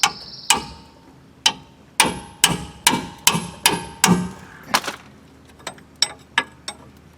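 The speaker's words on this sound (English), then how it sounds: "get yourself a little hammer and then try to break these free" A small hammer strikes the rear brake caliper bolts on a 2002 GMC Sierra, about a dozen sharp metallic blows in an uneven rhythm, close and distinct, some ringing briefly.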